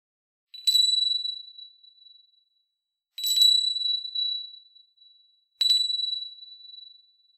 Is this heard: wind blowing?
no